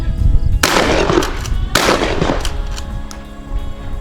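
Two loud shotgun blasts about a second apart ring out during an opening-weekend dove hunt in West Virginia, each close and sharp with a booming echo that fades into the open air.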